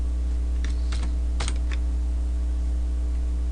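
Typing on a computer keyboard while working in an Excel spreadsheet, a few quick clustered key clicks ending with a firmer Enter press, over a steady electrical hum.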